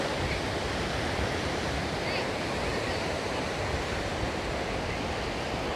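Ocean surf rolling in at Ogunquit Beach, Maine, a steady broadband wash of breaking waves with no distinct individual crashes, constant and fairly loud throughout.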